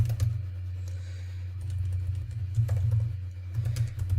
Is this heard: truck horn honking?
no